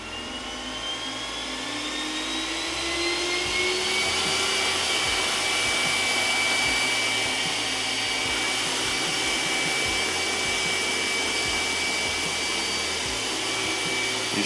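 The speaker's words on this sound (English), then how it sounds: "Listen to the suction once it kicks on." An iRobot Roomba S9 robot vacuum runs its suction with a steady, smooth whirring drone and a high whine that rises slightly as it spins up, continuing alone at moderate volume.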